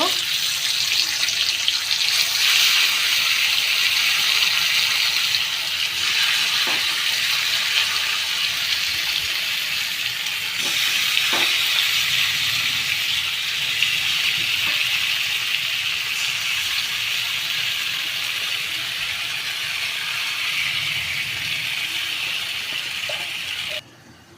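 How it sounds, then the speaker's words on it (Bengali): Water being poured into a pan of mustard hilsa fish, a continuous close rushing pour held for over twenty seconds before stopping abruptly. "আমরা জল দিয়েছি, এখন জল দিয়ে ঢেকে 10 মিনিট রান্না করব"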